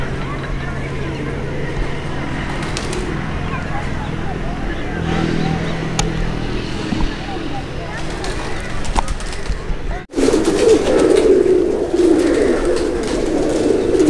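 Pigeons cooing softly at a loft during a flying session, a steady low murmur of calls close by, with a louder burst of cooing and wing activity in the last few seconds and outdoor background noise throughout.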